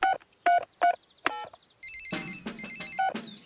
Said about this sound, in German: Ich rufe Opa Kleff mit seinem Abschleppwagen